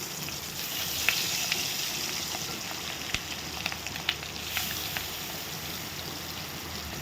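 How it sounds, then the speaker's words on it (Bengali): Fish roe frying in the hot oil left over from frying spiny gourd, giving a steady soft sizzle with scattered sharp crackles and pops, with no voices. "মাছের ডিমটা তো সুন্দর করে ভেজে নিচ্ছি"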